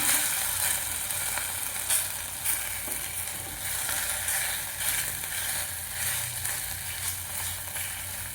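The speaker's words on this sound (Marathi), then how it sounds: "किसलेला बटाटा परतायचा आहे." Grated raw unpeeled potato fries in oil in a wok, giving a steady, close sizzle with a few scraping stirs and no talking.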